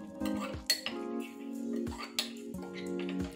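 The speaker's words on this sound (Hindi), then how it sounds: "धीरे से हमें इसे डालना है और चम्मच को चलाते रहना है।" A spoon stirs custard mix into boiling milk in a metal pan. Its scraping and clinking strokes repeat steadily, close and fairly quiet, with no one speaking.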